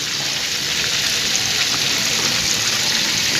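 Beef sizzles and fries in a pan with a dense, steady crackling hiss, close and continuous with no talking.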